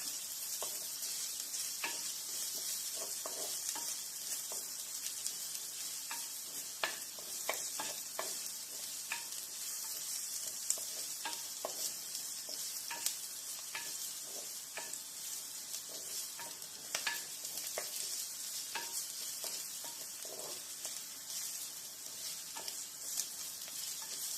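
Fenugreek seeds frying in a pan for a sardine curry give a faint, even hiss with frequent small clicks and scrapes as they are stirred, continuous and without voices.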